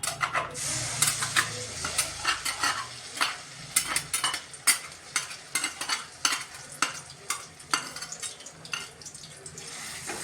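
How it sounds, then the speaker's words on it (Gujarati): Ginger paste sautéing in two spoons of ghee over a low flame, with a steady close sizzle broken by repeated scraping and stirring strokes of a spoon against the pan. "અને આદુની પેસ્ટને આપણે સ્લો ગેસ ઉપર એને સાંતળીશું"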